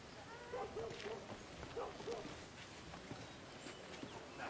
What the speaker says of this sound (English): That's a fine horse